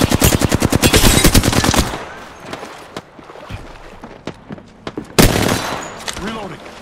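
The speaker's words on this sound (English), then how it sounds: "We got trouble really close. We're close. Getting shot at." Rapid automatic gunfire rattles loudly in an Apex Legends fight, followed by scattered single shots and a second burst, with voices talking between them.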